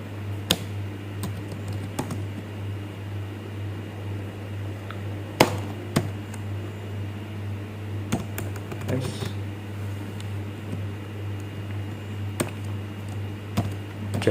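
Code is typed on a computer keyboard while programming an Arduino Nano with an HC-SR04 ultrasonic sensor. Scattered, fairly quiet key clicks come in short bursts and single taps over a low steady electrical hum.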